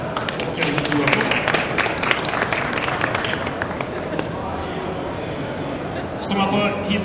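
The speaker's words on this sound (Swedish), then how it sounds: "Och en stor applåd." A crowd at the Fotomässan 2014 photography fair's Grand Prix award ceremony claps for the photographer Martin Johansson as he comes on stage. Steady clapping continues throughout, and a voice starts up near the end.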